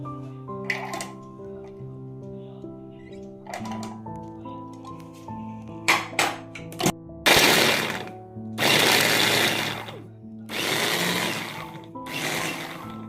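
Ginger and garlic crushed in an electric mixer grinder for a Kerala country chicken perattu gravy, heard as several loud, rough whirring bursts of a few seconds each, separated by short pauses, after some quieter kitchen clatter.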